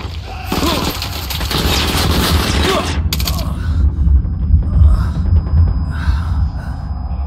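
Gunfire in Ghost Recon Wildlands crackles in a dense burst for about three seconds, followed by rumbling aftermath and scattered noise, loud and close with no talk.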